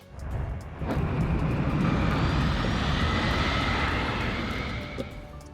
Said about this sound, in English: the ship hurtles through the wormhole and emerges near an alien planet